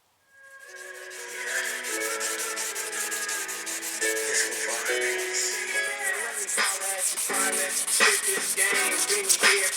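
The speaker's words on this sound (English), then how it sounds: "When you're wet sanding," Steady, continuous abrasive rubbing of wet sanding fiberglass speaker pods with sandpaper, close and fairly loud, with a slightly wet, gritty texture and no talking.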